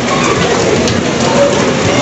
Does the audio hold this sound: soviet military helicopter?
no